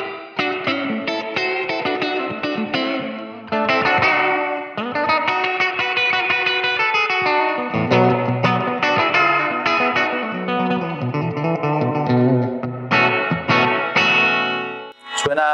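Electric guitar through a Blackstar Debut 50R amp dialed to a fifties-style tone plays twangy, slightly overdriven riffs and bends with echo and reverb, loud and continuous, with brief pauses between phrases.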